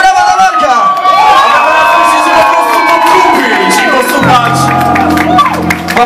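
Rock concert audience in Bydgoszcz cheering, whistling and shouting with applause, loud and close throughout, with someone speaking over the crowd in places.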